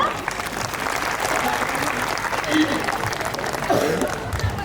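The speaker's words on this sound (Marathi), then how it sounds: "तर मग जरा माझ्यासाठी जरा टाळ्या वाजवा" Audience applause at a wedding sangeet: sustained, fairly loud clapping from a crowd that runs unbroken for the whole stretch, with some voices mixed in.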